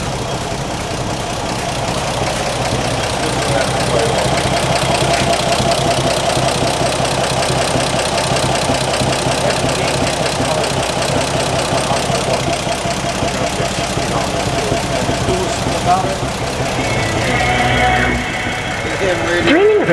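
Engine of a 1954 Corvette idling after a manual choke start, a steady close rumble running throughout with a faint knocking texture, voices talking over it.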